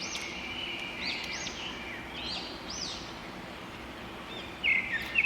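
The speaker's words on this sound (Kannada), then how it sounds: "ತುಂಬ ಪಕ್ಷಿಗಳು ಚೆನ್ನಾಗಿ ಸೌಂಡ್ ಇದೆ" Birds sing near the Yana caves, several clear chirping and warbling calls repeating in short phrases over a steady outdoor hum, fairly close and distinct.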